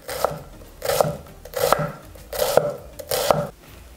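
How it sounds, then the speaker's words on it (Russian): A knife chops an onion finely on a board in five evenly spaced bursts, each a close, crisp series of rapid cuts with brief pauses between. "Прям меленько сразу нарезаю."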